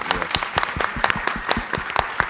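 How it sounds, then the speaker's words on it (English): Audience applause from a live-streamed talk: dense, steady clapping from many hands with crisp individual claps standing out, continuing at an even level throughout with no voices over it. "You can applaud for that."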